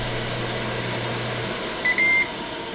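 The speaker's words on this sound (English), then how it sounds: "When the time's up, the unit beeps and you'll see end displayed on the screen." A steady Ninja Foodi electric grill hum runs throughout, then two short electronic timer-end beeps sound near the end, the second slightly longer.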